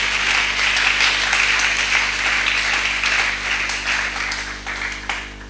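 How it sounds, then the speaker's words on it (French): A church congregation applauds the Lord with steady, dense clapping that fills the room at full volume, tapering off slightly toward the end without any voices over it. "Acclamez le Seigneur."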